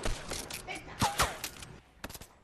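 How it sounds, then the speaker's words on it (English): Bursts of gunfire in Fortnite Battle Royale, scattered shots at varying distances with a few sharper close cracks, while players talk over the action. "they're shooting us still"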